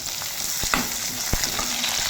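Chili, garlic and ginger fry together in a pan for a dhaba-style matar paneer masala, giving a steady close sizzle with a couple of sharp spatula knocks and no talking.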